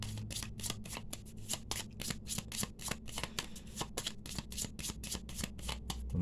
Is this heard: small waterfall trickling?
no